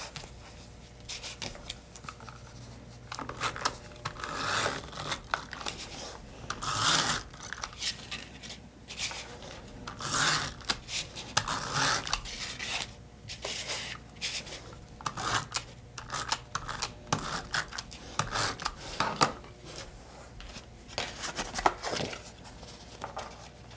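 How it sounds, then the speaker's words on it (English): Glitter paper is pressed and rubbed down onto a card base, giving soft intermittent scraping, rustling and rubbing bursts close to the microphone at a quiet level. "I'm going to go ahead and adhere the glitter paper down to the card base."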